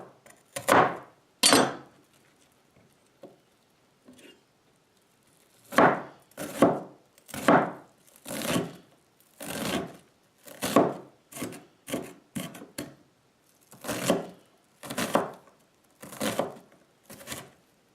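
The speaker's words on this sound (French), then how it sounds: "Les oignons que j'ai coupés en deux, et je vais aussi couper le plus fin possible." A knife finely chops halved onions on a board, sounding as crisp close chops that come in a few quick pairs, then a pause and a longer, steady run of strokes.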